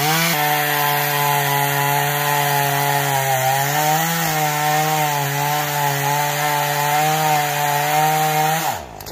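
Chainsaw cutting through a rotten, twisted cherry tree, a loud steady engine drone held close for nearly the whole stretch, pitch sagging slightly under load, then cutting off abruptly near the end.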